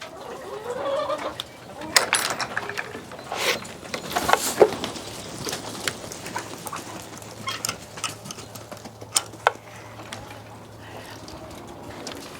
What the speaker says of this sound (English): Chicken stampede.